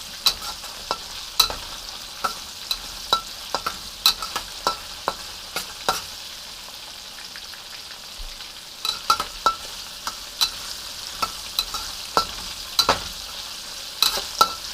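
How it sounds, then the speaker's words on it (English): Cornstarch-coated meat for kung pao fries in a pan on an electric stove, giving a steady soft sizzle broken by frequent sharp crackles and pops. "So I want to fry this. And that cornstarch is going to crisp up nicely."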